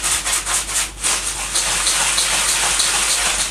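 Airgun pellets rattle and swish inside a lidded container with detergent as it is shaken vigorously, a dense, continuous gritty rubbing and sloshing sound, loud and close, with no speech.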